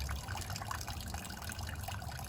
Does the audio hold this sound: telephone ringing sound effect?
no